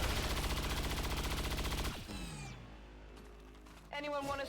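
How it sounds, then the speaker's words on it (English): A rapid burst of automatic gunfire in XCOM 2 Long War of the Chosen hammers out a fast, loud, evenly spaced rattle for about two seconds, then gives way to quieter game sounds and a short mechanical whir, with a voice speaking over it. "a little rapid fire"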